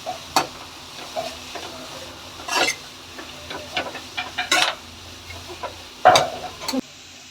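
Capsicum goes into a pan of homemade noodle vegetables and is stir-fried, with soft sizzling under scattered scraping strokes of a spatula, close and moderately quiet, no voices.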